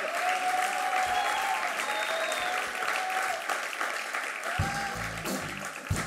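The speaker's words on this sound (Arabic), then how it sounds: "صفقوا على رواح" A studio audience at a Tunisian television show applauds, steady crowd clapping throughout with faint tonal music or whistling above it and some lower thumps near the end.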